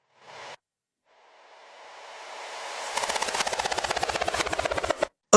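A sample played backwards in Cakewalk XSampler: a brief noisy burst, then a long swelling hiss that builds into rapid rhythmic pulsing before cutting off abruptly, loud and close with no voices.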